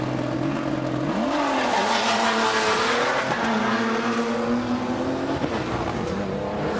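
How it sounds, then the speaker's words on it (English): A Toyota Hilux rally vehicle drives a forest rally stage, its engine loud and close with rising and falling revs through gear changes, a steady roar with no talk. "It is an incredible sound of the Toyota Hilux, which is making its way around right now."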